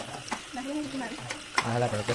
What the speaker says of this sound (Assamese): পিঁয়াজ নহয়, পিঁয়াজ ভাজি আছে।